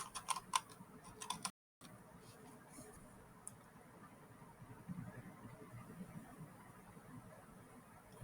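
A quick burst of light keystrokes on a computer keyboard, faint and close, clicking for about a second before giving way to a quiet room hum.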